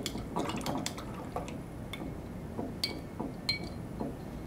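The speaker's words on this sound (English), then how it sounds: "I'm gonna rinse my brush." Paintbrush rinsed in a jar of water during a live acrylic painting session, giving soft splashing and repeated light clinks of the brush against the glass, close and moderately quiet.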